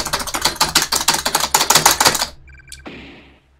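Rapid, frantic clatter of computer keyboard keys during a frustrating Mario music-box game, a dense burst of loud close strokes for about two seconds, then a few small clicks and a soft trailing noise fading out.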